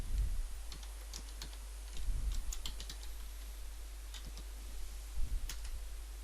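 Typing on a computer keyboard gives irregular, crisp key clicks in short bursts over a steady low hum, close and moderately quiet with no talk.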